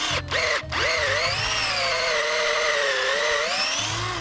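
A drill bores a hole into a tree trunk to tap sap, whining steadily and close with a slowly wavering pitch after two short starts at the beginning, with no talk.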